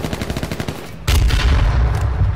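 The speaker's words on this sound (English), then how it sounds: "That was a machine gun." Machine gun fire in the video game H1Z1: a rapid burst of gunshots, then a denser, louder stretch of continuous automatic fire with heavy low boom, close and loud with no talking.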